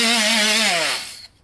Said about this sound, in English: die grinder, battery powered.